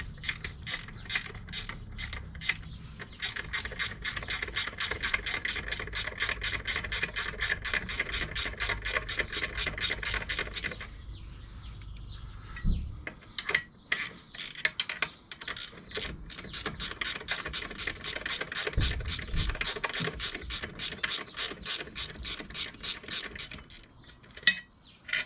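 A tool turns out the last bolt from the leg of a fishing boat, giving long stretches of fast, even mechanical ratcheting clicks that pause briefly partway through, close and steady.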